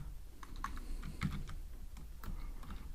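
A computer keyboard clatters under quick typing, a rapid run of crisp close key taps of uneven spacing over a soft low hum.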